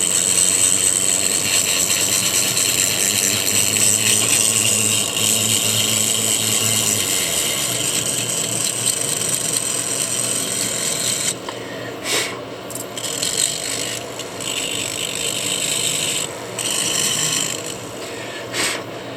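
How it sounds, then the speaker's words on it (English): An aluminum oxide grinding wheel works over a fossil crab, giving a steady, loud abrasive whir with a raspy grinding texture. After the midpoint it breaks into shorter bursts and brief pauses as the tool shifts position. "now I'm going to use this grinding wheel, aluminum oxide wheel"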